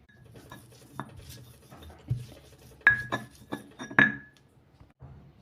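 Soaked dried shrimp and garlic are ground together with clinks and knocks of utensil on bowl, scattered hits and scrapes of moderate loudness, with no talking.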